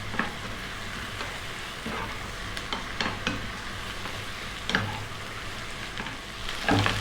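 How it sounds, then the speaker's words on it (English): Cabbage is stir-fried over high heat for a garlic ginger tofu dish, sounding as a constant sizzle broken by occasional spatula scrapes and a louder stir near the end. "let's go for 3 more minutes on this high heat, stirring often"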